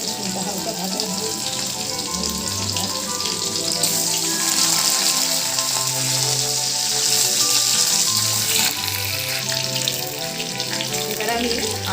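Green chillies, chopped garlic and a bay leaf frying lightly in hot oil, producing a continuous crackling, rain-like hiss close by that swells slightly midway, with no talking.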